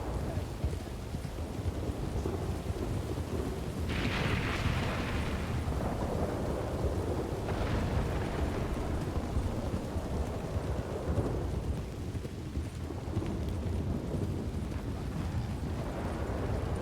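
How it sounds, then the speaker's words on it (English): Loud, sustained thunder rumbles in the Old West roleplay game WildRP. Deep rolling booms fill the whole stretch, with a few sharper cracks, and voices and hoofbeats sit faintly beneath. "I'm having a little trouble hearing that thunder. It's real loud."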